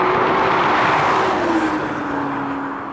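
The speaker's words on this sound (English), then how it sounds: "Good start there, the electric motor's doing their job." A Honda NSX hybrid pulls away hard from a standing start in a drag race against a Nissan GT-R, giving a loud, sustained engine whir whose pitch rises smoothly and then eases as it moves off.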